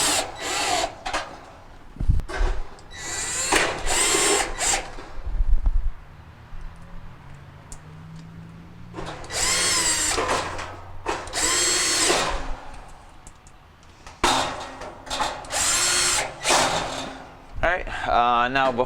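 A power drill drives four screws back into the top panel of a Whirlpool dryer, sounding as several separate whirring bursts up close, with a person talking in between.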